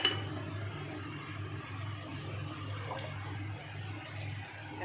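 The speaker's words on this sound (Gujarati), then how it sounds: "ખાંડ ડૂબે ને એટલું આપણે પાણી નાખવાનું છે." Water pours into a thick-bottomed wok holding sugar for syrup, a soft running trickle with faint clinks of the pan under a low background hum, close and quiet, with no one talking.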